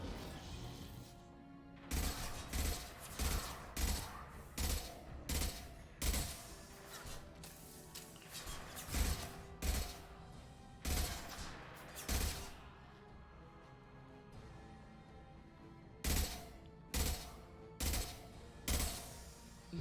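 Repeated gunshots ring out at long range in the video game Mass Effect Legendary Edition, loud sharp bursts spaced a second or so apart with short pauses, strong and close in the mix.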